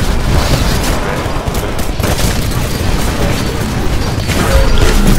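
Dense, loud gunfire and booms from a Titanfall beta match, continuous heavy battle noise with explosions throughout.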